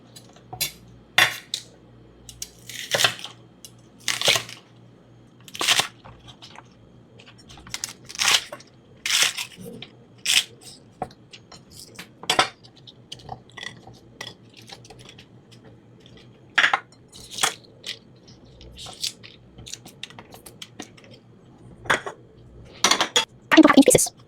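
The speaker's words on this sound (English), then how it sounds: "4 green onions. Cut them into 2-inch sections." A knife chops four green onions into two-inch sections on a cutting board, sharp irregular knocks in short bursts with pauses between, close and clear over a quiet kitchen.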